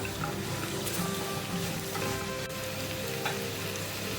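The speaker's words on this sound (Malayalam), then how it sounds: "ഇതൊരു 1 മിനിറ്റ് മീഡിയം ടു ഹൈ ഫ്ലെയിമിലിട്ടിട്ട് നമുക്കൊന്ന് സോട്ടേ ചെയ്തെടുക്കാം" Vegetables for a vegetable stew sizzle and sauté in a pan over a medium-high flame, a steady close crackling hiss with occasional faint stirring scrapes.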